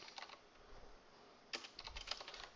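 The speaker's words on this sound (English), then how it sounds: "Oops, as I'm typing in the wrong screen." Quiet clicking of keys on a computer keyboard in short bursts and scattered taps, faint and close, typed while setting up an online game match.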